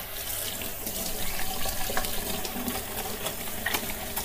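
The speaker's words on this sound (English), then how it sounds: "And I'll just wash my hands." Tap water running into a kitchen sink while hands are washed beneath it, a steady close splashing stream with small irregular splatters throughout and no talking.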